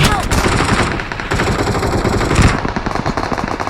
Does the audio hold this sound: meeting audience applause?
no